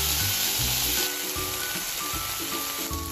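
Sliced steak sizzles in a cast iron pan, a steady loud frying hiss with short scraping and stirring knocks at intervals, no talking.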